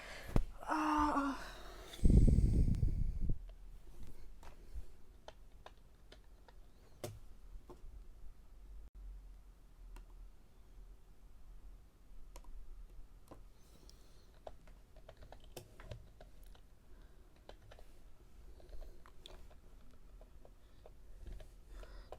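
Clicky computer keyboard typing goes on in short irregular bursts of keystrokes, close and quiet, after a brief loud vocal exclamation at the start.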